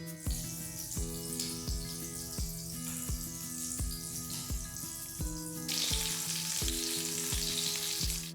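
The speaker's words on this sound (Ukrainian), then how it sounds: "кидаємо цибулю на сковорідку" Onions sizzle and crackle in a hot pan with a steady hiss, while rhythmic music plays over it.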